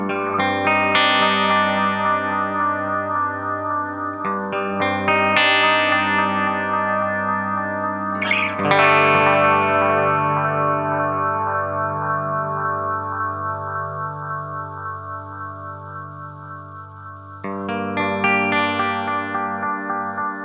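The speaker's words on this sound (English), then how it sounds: "Over to the FX8 Mono Delay." Electric guitar chords ring through a Fractal FX8 mono delay set at default with raised feedback and a touch of modulation, strummed chords repeating and smearing into a dense, distorted wash with some added noise, fading before a fresh strum.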